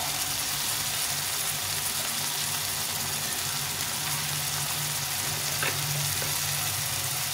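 Spices and fish masala cooking in hot oil make a steady, moderate sizzle with light crackling and faint stirring, continuous and without talk.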